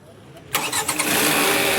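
A vehicle engine cranks and catches on the first try using a newly fitted self-starter motor and battery, the start arriving abruptly after a quiet moment and settling into a steady, loud running drone.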